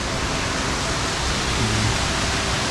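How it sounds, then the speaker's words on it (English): Melincwrt waterfall pours with a steady, dense rushing hiss of falling water, loud and continuous from close range, with no talk over it. "But there's enough to create such a large"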